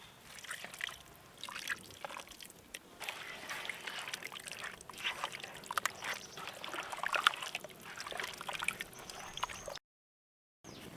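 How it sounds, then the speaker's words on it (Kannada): Starchy water left from boiling rice pours into a pot of masala-coated chicken for Hyderabadi dum biryani, a soft, steady trickle and slosh heard close up for about ten seconds before cutting off. "ಈಗ ರೈಸ್ ಬೇಯಿಸ್ಕೊಂಡಿರೋ ನೀರು ಹಾಕೊಳ್ಳೋಣ."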